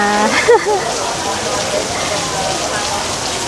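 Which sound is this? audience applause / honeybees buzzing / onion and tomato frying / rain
rain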